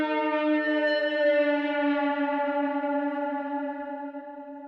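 A pitched-down synthesizer tone holds one sustained, harmonically rich note that sags slightly in pitch, soaked in echo and reverb so it sounds distant, steady and alone before slowly fading.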